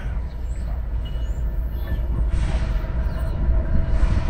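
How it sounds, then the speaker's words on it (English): A southbound coal freight train rolls past nearby with a continuous loud rumble and clatter of wagons on the rails, steady throughout with no voices. "Maybe a coal train."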